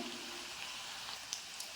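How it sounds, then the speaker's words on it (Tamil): Mustard seeds spluttering in hot oil for tomato thokku, a steady close crackle and hiss with a few sharper pops standing out near the end, no voices. "கடுகு பொரியுது."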